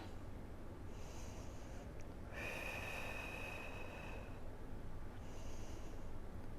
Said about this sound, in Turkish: Nefes alıp veriyorum.